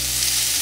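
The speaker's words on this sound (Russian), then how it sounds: "А лучок уже обжаривается" Onion frying in a pan beside mushrooms, a steady dense sizzle with no pauses, close and alone.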